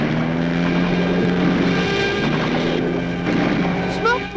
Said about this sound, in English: the Red Baron swoops down upon him and riddles his plane with bullets